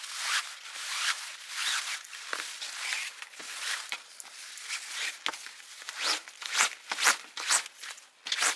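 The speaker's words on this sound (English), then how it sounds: "we're just going to pull this until all the yarn comes through" Chunky pleather yarn is drawn through a loop while knitting a jumbo tote bag, making a close, dry rasping and scraping. It comes in a run of uneven strokes and quick tugs of varying strength, with no voices.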